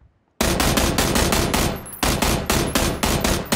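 Automatic gunfire in PUBG: after a brief silence, a loud, close burst of rapid shots starts abruptly and rattles on in a steady rhythm, then breaks off briefly and resumes with another string of shots.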